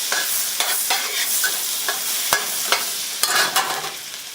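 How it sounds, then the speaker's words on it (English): Butter melts and sizzles in a wok over low heat, a soft steady crackle with occasional scraping clicks of a utensil, no voices. "Because we're using butter in this recipe, I don't want the wok to get too hot."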